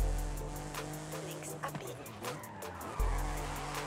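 A car in Forza Horizon 5 skidding under the handbrake, tires squealing over a revving engine with a sharp engine surge near the end, up close with light talk underneath.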